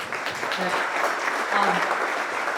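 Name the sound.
audience applause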